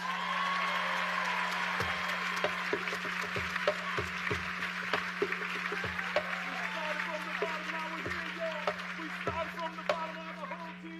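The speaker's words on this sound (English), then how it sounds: "So give yourselves a round of applause." Graduates at a commencement ceremony applaud, a moderately distant, sustained wash of clapping from a crowd with a steady low hum underneath and a few louder claps standing out.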